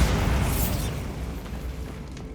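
Loud booming blast of the Bombarda explosion spell in Hogwarts Legacy, hitting at once then rumbling and decaying over a couple of seconds with no talk.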